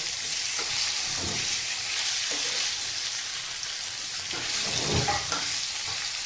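Pre-boiled potato fries in hot oil with nigella seeds for a Bengali fish curry, giving a steady close sizzle with soft stirring scrapes and brief bursts of louder crackle, no voices.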